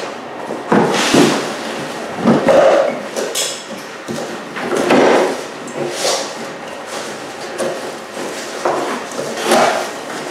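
Cardboard boxes are opened and tow hitch parts unpacked, giving a series of loud close knocks, rustles and scraping thuds in irregular bursts roughly every couple of seconds.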